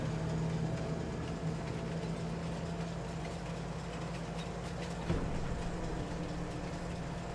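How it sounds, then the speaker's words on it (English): A train in Farming Simulator 22 rumbles with a steady low engine idle and a constant drone. A faint clank lands about two-thirds of the way through, with no voices. "We'll get the train loaded up."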